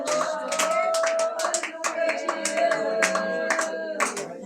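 A church congregation claps together, sharp overlapping handclaps in a loose steady rhythm, loud and close, with singing or a voice sustained underneath.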